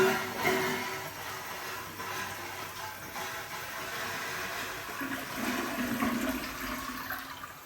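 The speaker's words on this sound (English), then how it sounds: "Flush." A residential toilet flushing loudly in a bathroom without an exhaust fan, a continuous rushing, gurgling water roar that surges slightly midway and keeps running throughout.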